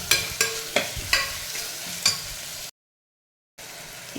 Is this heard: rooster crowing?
no